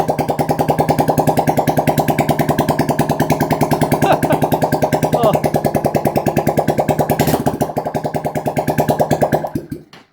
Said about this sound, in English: we've got to listen to how this thing sounds with no exhaust